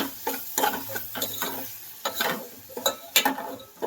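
Onions and ginger-garlic paste frying in a pan for mushroom curry, rhythmic stirring scrapes over a soft sizzle, close and fairly quiet.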